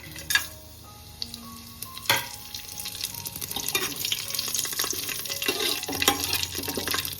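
Curry leaves and spices drop into hot oil for chicken rice. After a quiet start with a couple of utensil knocks, a dense crackling sizzle swells up and keeps going, close and steady.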